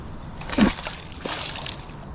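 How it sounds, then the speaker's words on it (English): A magnet thrown into water while magnet fishing lands with a sloshing splash, followed by a second, softer slosh and a trickle of water. "Let's throw this magnet in the water."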